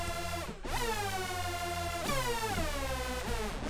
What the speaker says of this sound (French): Le MKS50, c'est le synthé que j'utilisais tout le temps dans les années 90